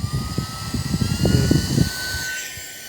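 A small Orashare HF11 mini fan runs steadily with a constant whirring drone and a faint high whine, heard close up, while soft tapping or handling noises sound in the first half.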